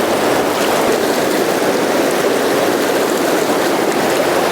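Fast water of the Madison River rushes in a steady, loud, continuous wash close by, with no voices over it.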